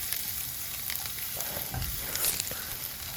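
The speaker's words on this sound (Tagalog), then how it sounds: "gisa ang garlic hanggang mag-golden brown." Minced garlic sizzles steadily in a tablespoon of cooking oil in a pan, browning for a Filipino breakfast of garlic rice, with a continuous close frying hiss and occasional light stirring scrapes.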